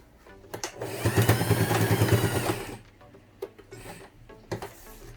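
A sewing machine stitches a fabric strap on a cloth phone wallet, whirring in a steady burst for under two seconds, then falls quiet with a few faint clicks and handling taps at the end.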